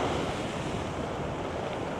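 Ocean waves washing onto a beach in England, a continuous loud surf roar mixed with gusty wind buffeting the microphone.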